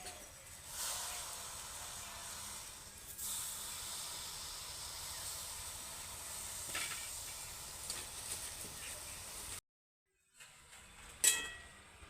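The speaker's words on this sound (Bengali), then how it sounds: "জলটা গরম হয়ে গেছে এবার আমি লাউ পাতা জলের মধ্যে দিয়ে দিচ্ছি" Hot water in a kadai hisses steadily as bottle gourd leaves are dropped in to boil, a continuous close broadband sizzle that cuts out briefly near the end before a short return.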